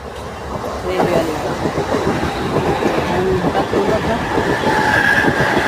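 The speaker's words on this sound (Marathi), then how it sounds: "इथे एक ब्रिज आहे तिथे एक दोन मिनटाला रेल्वे जाते असं तुम्ही बघू शकताय" A train crosses a bridge in Mumbai, its steady rumble and rhythmic clatter of wheels close and loud throughout, with a faint voice now and then under the noise.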